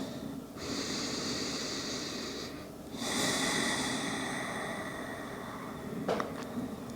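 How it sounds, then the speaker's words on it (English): Slow, deep breaths taken during a seated yoga hip stretch, heard up close and alone: a long airy inhale, then a stronger, breathier exhale, with a faint snort near the end. "take a few breaths"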